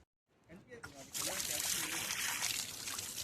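Water from a hand pump at a mountain trek site in Uttarakhand pours into a container, a steady close splashing trickle that starts after a brief pause and runs on continuously.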